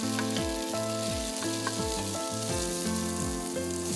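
Vegetables and capsicum frying lightly in a pan for vegetable pulao, a steady close sizzle running throughout with faint stirring scrapes and no talk.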